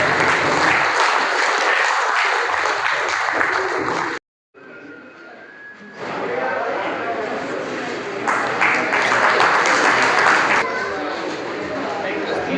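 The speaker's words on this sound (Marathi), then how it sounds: "तुमच्या टाळ्या वाजतच राहिल्या पाहिजे।" An audience at a Marathi commemorative programme breaks into loud, dense applause that cuts off briefly, then resumes under a speaker's voice and swells again.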